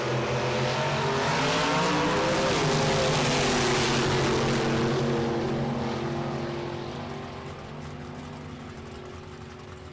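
Two drag racers launch and tear down the strip, a 1969 Firebird beside a Model T Roadster, their engines roaring loud with rising and shifting harmonic whine before fading slightly toward the end; no voices.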